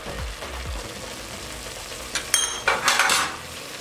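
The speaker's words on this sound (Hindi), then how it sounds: "इस तरीके का लकड़ी का हमने चम्मच ले लिया, इसे गोटा लगाएंगे।" A wooden spoon stirs sarson ka saag with added wheat flour in a pot, a low, soft churning and scraping with faint sizzling, followed by a few louder knocks and scrapes against the pot near the end.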